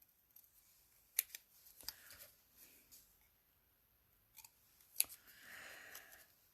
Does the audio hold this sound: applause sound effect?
no